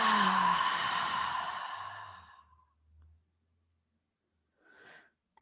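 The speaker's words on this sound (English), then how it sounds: "take again that deep, nourishing breath. Exhale through the mouth." A deep, slow exhale through the mouth during a yoga relaxation, fading out gradually, followed by a short quiet breath and a soft sniff.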